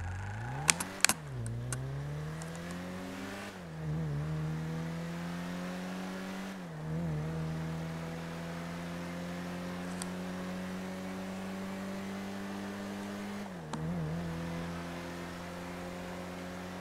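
A Nissan GT-R racing in GTA V, its engine droning steadily as it climbs through the gears with sweeping pitch shifts, sustained and alone.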